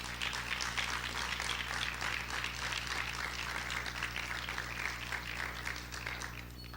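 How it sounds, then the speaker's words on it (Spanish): A church congregation applauds, a dense wash of many hands clapping at once, steady and fairly distant, tapering slightly at the end. "Yo pienso que eso se merece un aplauso."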